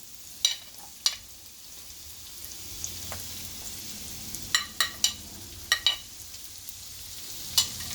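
Carrot and broccoli stem stir frying in a pan, a faint soft sizzle punctuated by sharp spatula clicks and taps against the pan at irregular intervals.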